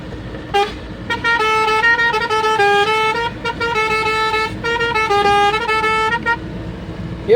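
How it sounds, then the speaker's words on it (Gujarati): Loud truck horns honk in a long run of blasts on an expressway, the pitch shifting between several tones, with brief gaps between bursts. "આપણે આના બધા જેટલા હોરન હે ને એટલા બધા વગાડે લીધા તમે સાંભળે શકો"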